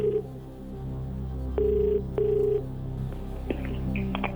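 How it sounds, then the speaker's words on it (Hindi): On a quiz game show, a phone call is placed: a few beeping dial tones come first, then two long electronic ringback tones, then a few more short tones, all fairly close and clear with no talk. "को फोन लगाया जाए"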